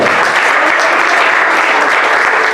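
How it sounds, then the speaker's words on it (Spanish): Church congregation applauding together, a dense, steady wash of loud clapping that fills the space without pause. "Den un aplauso al Señor, que es para el Señor."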